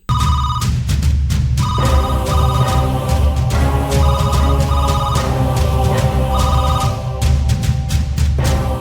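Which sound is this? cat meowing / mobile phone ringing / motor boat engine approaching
mobile phone ringing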